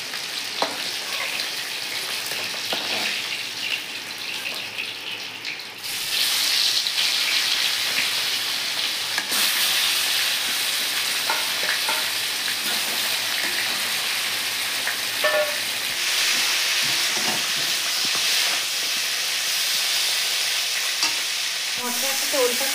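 Fish frying lightly in a pan for a Bengali elephant foot yam curry, a loud continuous crackling sizzle up close that swells after a few seconds and carries on with light stirring scrapes.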